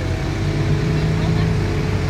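A LaFerrari sports car's engine gives a steady, loud low rumble with a constant droning hum, holding an even level throughout without rising or fading.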